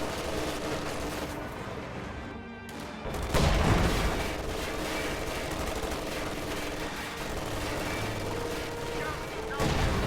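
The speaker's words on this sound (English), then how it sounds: "I think this M10 might die to MG42 fire." Sustained MG42 machine-gun fire in a World War II video game, heavy continuous rattling bursts mixed with distant explosions and battle din, loud throughout, with a voice heard at moments.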